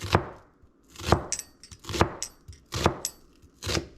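Knife cutting a kielbasa sausage lengthwise on a board, five sharp, evenly spaced chops about a second apart, close and clear in a quiet room.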